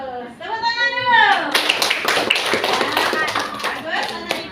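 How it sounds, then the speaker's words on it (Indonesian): A class of schoolchildren claps hands together in a lively burst of close, rapid claps, mixed with the children's raised voices and a teacher's talk. "Tepuk tangan dulu."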